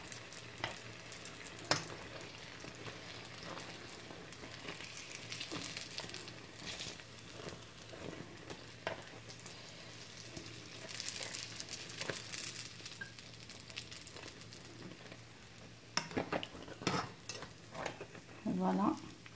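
Algerian khfaf (sfenj) doughnuts frying in hot oil give a continuous dense sizzle with scattered crackles, close and steady, with faint clinks and soft movement toward the end.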